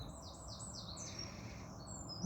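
Garden birds chirp in a quick series of high, descending tweets close by, a few repeated calls over a soft steady background hush, with one last thin call near the end.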